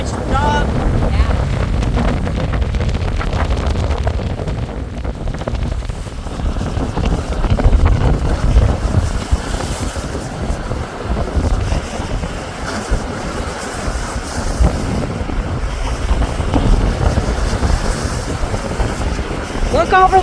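Strong wind buffets the microphone at a Lake Erie pier, with a broad, continuous roar of wind and crashing waves filling the scene loudly and steadily throughout.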